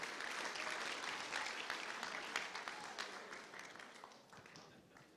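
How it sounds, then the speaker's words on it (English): Applause from a dinner audience at a charity reunion dinner, a dense steady patter of many hands clapping that holds for several seconds and slowly thins toward the end. "How about a round of applause?"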